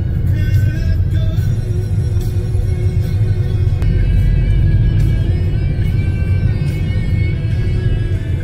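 Car driving up a winding mountain road in Greece, a steady loud low engine and road rumble from inside the vehicle that holds without a break throughout.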